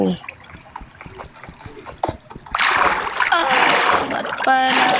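Water splashing and trickling in the Minecraft video game, a steady wash of liquid sound swelling louder in the second half, with bursts of game effects and a voice talking over it.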